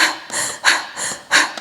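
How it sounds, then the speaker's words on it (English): Stressed mouth breathing demonstrated in short, rapid cycles, with three to four breathy gasping inhales and exhales alternating in a quick, even rhythm, close and fairly loud with no speech. "we tend to default to mouth breathing, which sounds like this."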